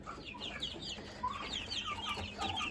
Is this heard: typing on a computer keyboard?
no